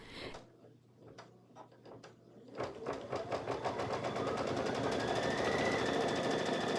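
Embroidery machine stitching the nose and eye outlines of a pumpkin design on a Halloween treat bag in the hoop, a rapid steady mechanical chatter that starts sparse and builds to continuous close, loud stitching.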